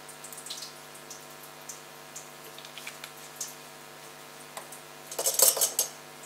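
A spoon stirs a drink in a glass during a pH test, soft faint clinks scattered over a quiet hum, then a brighter burst of rapid glassy tinkling near the end.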